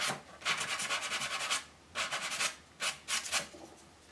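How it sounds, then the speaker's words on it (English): Wood on a model ship deck for HMS Victory being hand-sanded: close, steady back-and-forth rasping strokes in several rhythmic bursts separated by short pauses, with no talking. "I'll let it dry and sand it."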